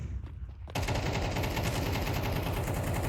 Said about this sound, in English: why am I getting shot at?